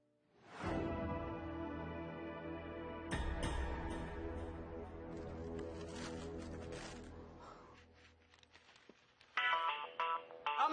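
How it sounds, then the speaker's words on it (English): A cell phone rings in a house with a long sustained electronic ringtone, followed by fainter varied tones and a few short bursts of noise toward the end. "the cell phone! It's ringing!"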